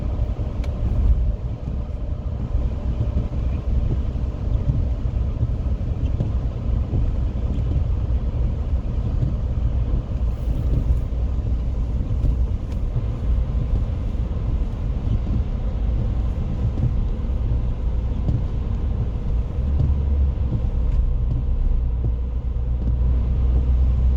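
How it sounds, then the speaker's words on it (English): Steady low rumble of cars passing on a road at night, a continuous dense traffic drone with no distinct individual pass-bys and no voices. "This is crazy to see all these cars out at this time of night."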